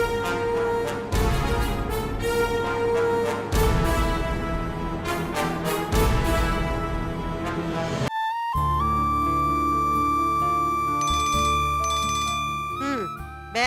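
A phone ringtone plays in a Tamil TV serial scene, a loud, bright melodic tune repeating in phrases for over ten seconds, switching to a different chiming pattern partway through.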